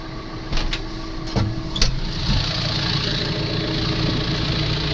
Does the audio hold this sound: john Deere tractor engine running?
yes